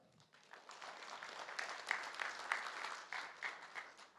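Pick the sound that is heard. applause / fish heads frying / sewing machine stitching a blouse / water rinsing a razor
applause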